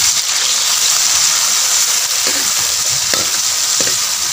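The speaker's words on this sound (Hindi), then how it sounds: "हुण असीं इहनूं मिक्स कर लेना, ठीक है।" Rajma cooking in a pan in a village kitchen is stirred and mixed, with a steady close sizzle of frying and a few scraping spoon strokes against the pan toward the end. No voices are heard.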